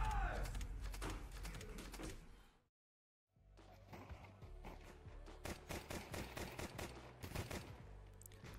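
Rapid bursts of gunfire rattle through a Counter-Strike match, dense and repeated on both sides of a brief silent gap, with a voice talking underneath.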